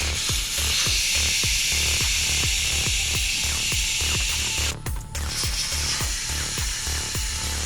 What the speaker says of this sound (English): Use the included tool to remove the valve core and deflate the tires.